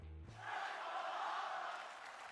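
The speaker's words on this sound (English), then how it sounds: "It sounds like the WWE Universe here in Riyadh are rallying behind Luke Harper" A wrestling crowd in Riyadh roars and chants for Luke Harper, a broad sustained arena din following a brief cut-off voice at the start.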